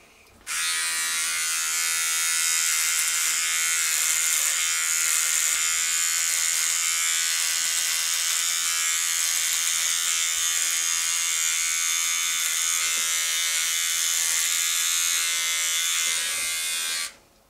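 An electric beard trimmer fitted with a guard attachment set to 1 buzzes loudly and steadily for about sixteen seconds, close up, starting and stopping abruptly, with no talking.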